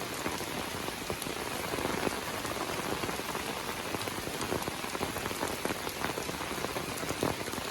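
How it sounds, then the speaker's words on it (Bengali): Heavy rain pours over a flooded village, a thick, unbroken roar of drops hitting water and surfaces, steady and close with no voices. "অনেক জোরে বৃষ্টি হচ্ছে দেখতে পাচ্ছেন"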